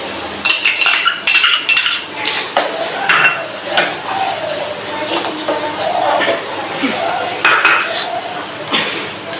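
A metal spoon clinks and scrapes repeatedly against a pot while vermicelli kheer is stirred into milk, a busy close-up rhythm of taps and rattles.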